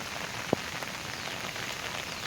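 Rain falls steadily on a garden of young ginger plants during the rainy season, a dense, continuous patter close by with one brief sharp tap early on and no talking.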